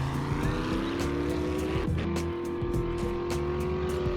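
A vehicle drives in the 7 Days to Die game, version 1.1, its engine a steady low drone with tonal harmonics that shift pitch around the midpoint, continuous and fairly loud throughout.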